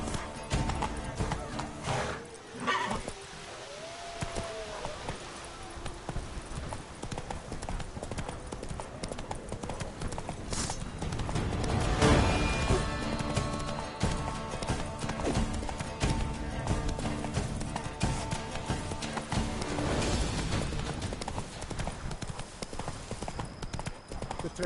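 Horse hooves clip-clop steadily as a rider moves along in Witcher 3, a continuous rhythmic trotting with occasional snorts and a brief whinny, set against in-game ambience.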